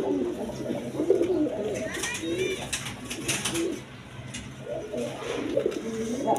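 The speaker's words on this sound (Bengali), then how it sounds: "হাই ফ্লাইং কবুতর" High flying pigeons coo in soft, repeated throaty rolls, close by and overlapping, with a few brighter bird notes mixed in.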